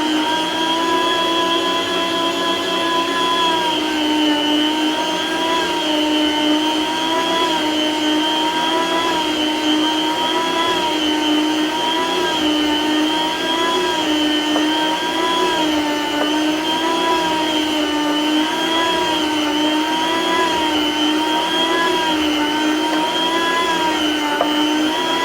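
Borlebbi electric food slicer running continuously, a loud steady motor whine with a humming tonal drone, close and unbroken for the full duration without talking.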